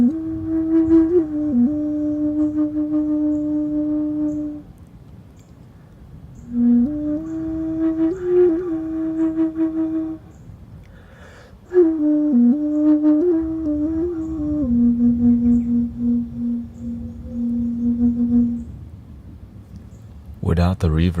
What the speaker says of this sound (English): The sound is very similar to a flute called the ney.